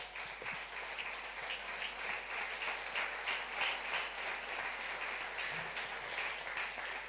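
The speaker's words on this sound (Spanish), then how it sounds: "Dele un aplauso a Dios." A church congregation claps in praise during a Spanish-language sermon, a quiet, distant, steady patter of many hands lasting about seven seconds.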